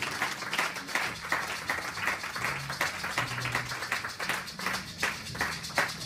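Church congregation at a Sunday service applauding and cheering together, a steady wash of clapping with scattered voices throughout, fairly close and continuous.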